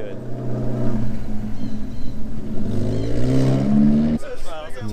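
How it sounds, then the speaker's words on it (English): Alfa Romeo 4C sports car engines at a Cars & Coffee gathering, a steady loud droning rumble with rising pitch like revving or accelerating, nearby, then cutting off abruptly near the end. "Those Alfa Romeo 4Cs sound pretty good."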